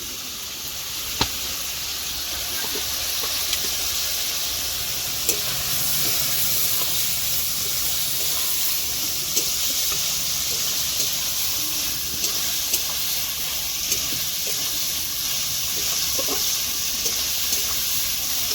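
Fried snails and potato hit hot masala in a pan and sizzle steadily, a loud, close hiss throughout with faint clicks and stirring ticks scattered through it.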